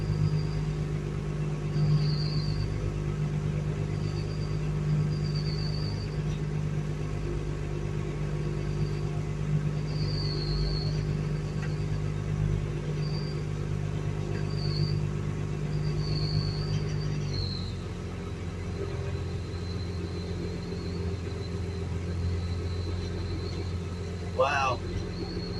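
A fishing boat engine drones steadily during a reef fishing tournament, a low continuous rumble that shifts in pitch partway through as the revs drop, with people talking over it.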